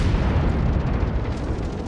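Low, continuous rumbling boom from a distant naval gun shell arriving in World of Warships, steady and loud across the whole moment with no talk over it.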